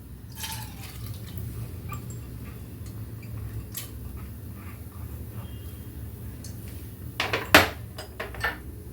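Soaked moong and toor dal go into a cooking pot for a quick dal: a steady low background with soft wet shuffling, then a short burst of clattering and splashing near the end.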